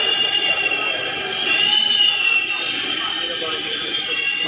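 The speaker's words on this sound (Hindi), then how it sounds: "तो इस मेट्रो में चढ़ते हैं, भीड़ बहुत लगती है इस मेट्रो में" A crowded Delhi metro train at the station gives a steady rumbling roar with a high whining hum, continuous and fairly loud throughout.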